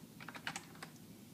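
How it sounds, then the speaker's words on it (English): Quick light typing on a computer keyboard while a job posting description is entered, a short burst of soft, close key clicks in an uneven patter over a quiet room tone. "And we'll type in a description. I'll type just a starter here, a small phrase to start it out."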